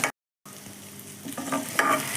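Lentils roast in hot oil in a kadai for Kongu-style paruppu chutney, a steady close sizzle with stirring scrapes that follows a brief gap of silence.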